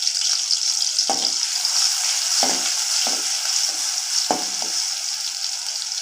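Garlic sizzles in hot oil in a pan on a stove with a steady, bright frying hiss and a few sharp crackles or stirring knocks, close by, with no voices.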